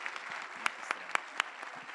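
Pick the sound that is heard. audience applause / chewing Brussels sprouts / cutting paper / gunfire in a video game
audience applause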